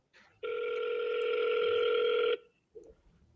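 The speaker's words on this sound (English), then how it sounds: "let's call her, see if we can get her on the phone first" A telephone rings on an outgoing call, one steady electronic ring tone lasting about two seconds before it cuts off, followed by a short faint sound. No one speaks.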